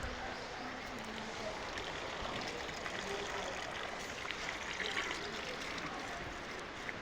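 Water runs steadily over kitchen garden plants with a constant, even hiss and trickle, and a voice speaks faintly beneath it.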